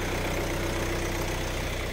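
A 2017 Kia Carens with a diesel engine idles steadily, a close, constant low rumble with an even throb and no revving.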